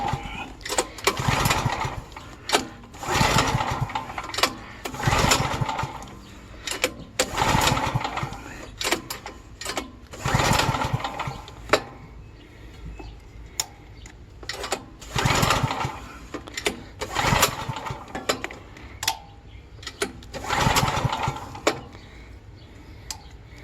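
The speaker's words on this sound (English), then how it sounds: "Pull start. They take 2 or 3 or 4 or 5 to get it started." A dual fuel generator is pull-started repeatedly, each yank giving a short burst of engine chugging that catches and fades, nearby and fairly loud, running on gasoline.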